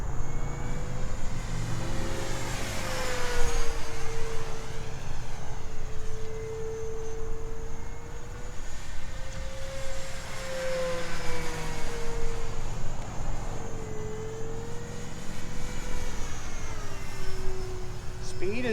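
Durafly 1100mm 4S Spitfire RC plane flying in the early morning, its electric motor a steady whine that rises and falls in pitch as it passes, heard at a distance over faint outdoor background.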